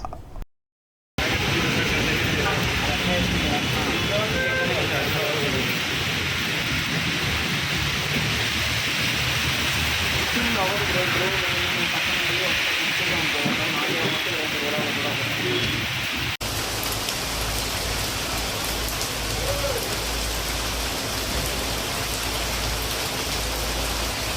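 Heavy rain pouring onto streets in Hyderabad, a dense, steady hiss of falling water that continues for the whole stretch after a brief silent gap at the start, with a slight change in tone partway through.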